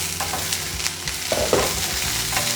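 Chopped ivy gourd stir-fries in a hot pan, a steady close sizzle with occasional scraping and stirring clatter from a spatula, continuous with no voices.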